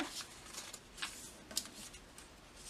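Paper creasing and rustling while an origami crane is folded, with soft, close crinkles and several brief sharp snaps of the sheet at a quiet level.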